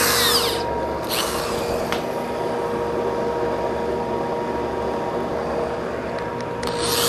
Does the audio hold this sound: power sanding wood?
yes